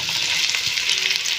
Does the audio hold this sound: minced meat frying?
yes